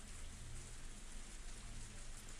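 Steady heavy rain in the visual novel Higurashi When They Cry, a dense, even hiss of falling water that fills the whole moment without any breaks.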